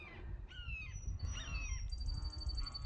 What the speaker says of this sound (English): Do you hear that hawk?